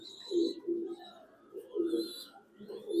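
A light-colored Willie hen racing pigeon wearing a 2022 ring coos in soft, repeated low rolling calls, close by and fairly quiet, with faint higher chirps from other birds in the loft.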